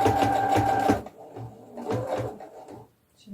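A sewing machine running a short backstitch on cloth doll pajamas, a close whirring burst of stitching followed by softer intermittent mechanical clicks and thumps.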